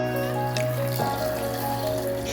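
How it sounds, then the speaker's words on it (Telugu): Water poured from a cup into a mixer grinder jar, a brief close splashing trickle with a gurgle partway through, alone. "1 కప్పు వాటర్ వేసుకున్నాను."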